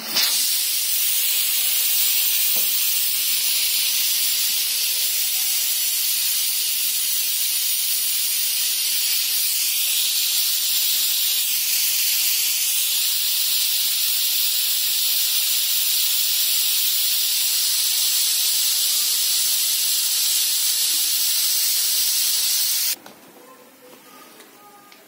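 Loud, steady steam hiss from a pressure cooker vent, continuous for over twenty seconds before cutting off abruptly.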